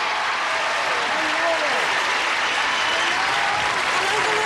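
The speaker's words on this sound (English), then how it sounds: "Would you all join us now with a big round of applause as we say, hello, stars!" Loud, dense applause from a television game show studio audience welcoming the celebrity panel, a continuous roar of clapping with faint voices and whoops beneath it.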